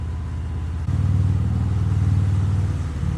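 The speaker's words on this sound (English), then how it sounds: "I do like the way the engine sounds and the pipes sound before they start getting too loud" A 2018 Harley-Davidson Fat Bob's engine and exhaust pipes rumble in a steady, deep, loud drone while riding. The pitch rises slightly midway, and no voices are heard.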